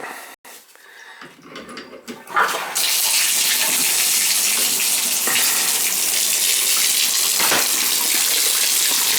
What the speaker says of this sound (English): I'm gonna run some water down there, make sure it don't leak.